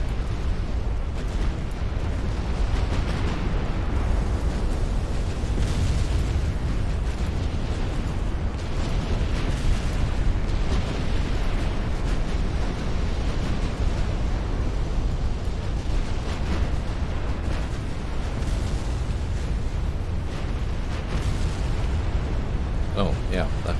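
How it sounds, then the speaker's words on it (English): Ammunition flash fires on warships in the naval strategy game Ultimate Admiral Dreadnoughts, a dense, continuous rumble of explosions and booms that stays loud throughout. "So basically a flash fire, that's when the ammunition starts exploding."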